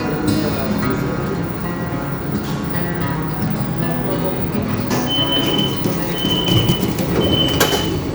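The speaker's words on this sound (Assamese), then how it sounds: "এতিয়া মই ট্ৰাম লাইনত যাম এটা সৰু এটা ট্ৰেইন আছে ইয়াত ট্ৰাম আৰু ট্ৰাম মেট্ৰ' বুলি কয়" A tram riding toward Jumeirah in Dubai, steady rolling rail noise inside the car with brief squeals and clanks, close and moderately loud, no talk.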